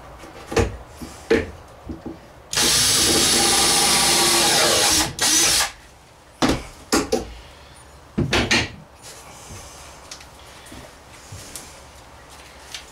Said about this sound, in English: Pre-drill right here